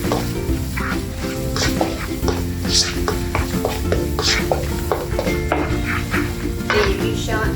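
Chilli crab sauce ingredients, seasoned with salt, are stirred in a sizzling pan, a spoon scraping and clinking in a steady rhythm over continuous frying hiss.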